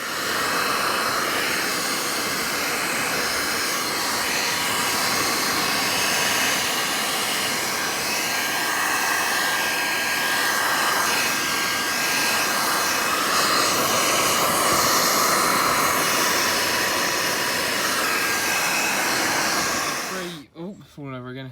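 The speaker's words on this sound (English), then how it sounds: "Then go over it with the heat gun, get some crinkled" A heat gun blows steadily at close range over a freshly painted wrinkle-finish rocker cover, a continuous loud whooshing hiss that holds for about twenty seconds before cutting off abruptly.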